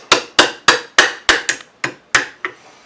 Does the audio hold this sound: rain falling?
no